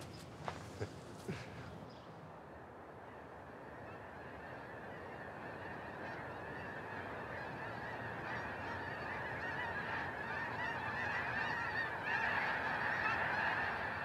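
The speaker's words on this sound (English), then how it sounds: "Now the thousands of snow geese that landed in the dangerous waters of the Berkeley Pit." Thousands of snow geese honk at the Berkeley Pit, a dense, steady chorus of calls that grows louder toward the end, with a few sharp knocks near the start.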